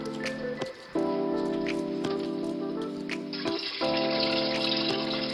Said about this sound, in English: Now, then we'll add some more water